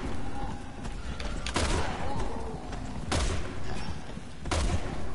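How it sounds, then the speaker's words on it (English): Sniper rifle shots in Resident Evil 6: three loud, sharp blasts spaced about a second and a half apart, each followed by a short rumbling tail, over steady game ambience. "I'm gonna sniper rifle him."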